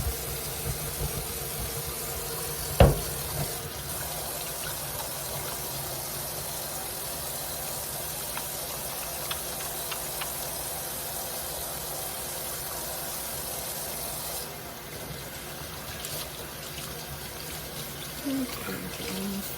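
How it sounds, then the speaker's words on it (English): Running faucet water while hands are washed at a kitchen sink, a steady close hiss of flowing water with a brief knock early on, continuing without pause. "Here we are washing our hands to begin this day of cooking our spaghetti."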